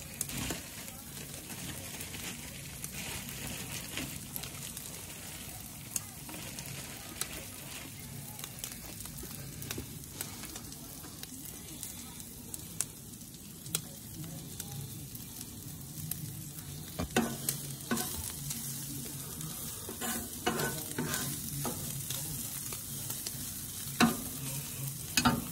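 Tortillas warm on a hot griddle with a soft continuous sizzle and frying crackle, broken by occasional scraping and tapping sounds, heard close and fairly quiet across a long stretch.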